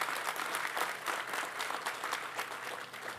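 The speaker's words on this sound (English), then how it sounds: "Yes, let's give a clap for that." Audience applause at a Maryland governor's bill-signing event at Tradepoint Atlantic in Sparrows Point, a steady wash of many hands clapping throughout, moderately loud with no talking over it.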